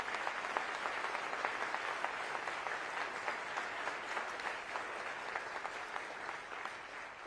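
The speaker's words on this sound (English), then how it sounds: "Can we give them a round of applause?" Audience applause fills a hall at the 2024 Milwaukee County State of the County address, steady and dense for the whole stretch with sharp individual claps standing out above the mass.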